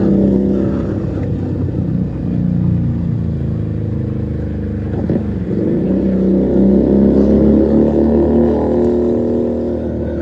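A Keeway SCR 250 motorcycle fitted with a Rez Speed exhaust rumbles steadily close by, its low engine note holding even and loud throughout with a slight rise in pitch near the end.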